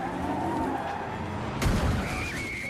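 A car driving past nearby, a brief loud whoosh and rumble partway through over a steady engine drone, followed by a rising whine.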